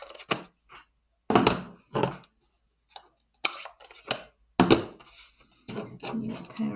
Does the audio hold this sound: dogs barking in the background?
no